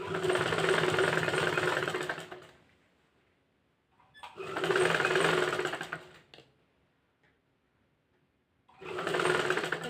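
A sewing machine stitching a three-piece nighty runs in three loud bursts of rapid mechanical whirring, separated by near-silent pauses, with no talk.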